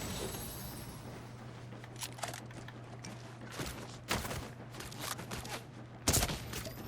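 Gunfire in the Fortnite video game: scattered sharp shots and short bursts ring out over a steady low hum, with a few louder blasts standing out, and no one talking.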